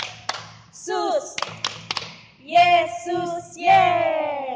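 Children at an Indonesian church Sunday school service do a rhythmic clapping chant, with sharp claps mixed into sung, voiced phrases that come in short bursts.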